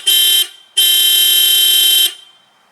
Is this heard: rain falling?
no